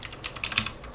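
Close, quick keystrokes on a computer keyboard come in a short burst of light, uneven clicks, with no one talking.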